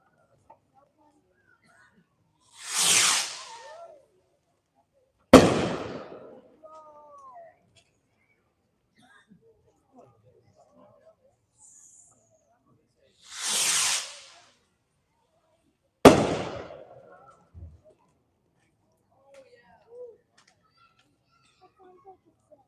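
Two Shogun Aerojet missile pack firework rockets, each a rising whoosh followed a couple of seconds later by a sharp bang, repeated twice with quiet gaps, heard outdoors at a demo night.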